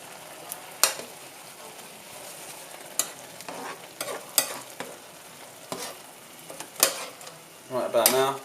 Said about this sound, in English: Turning my prawns over.